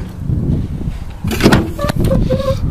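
Door of a rusty Chevrolet Silverado pickup truck with loose door pins swinging shut, a solid metallic slam followed by a short rattle and clicks, close by in a garage.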